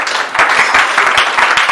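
A church congregation applauds, a dense, loud, steady wash of many hands clapping close by for nearly two seconds without a break.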